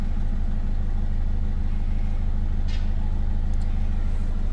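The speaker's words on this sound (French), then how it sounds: "Là le ralenti est stable." A cold Peugeot 206 HDi diesel engine idles at a steady rhythm, loud and close, for the whole clip.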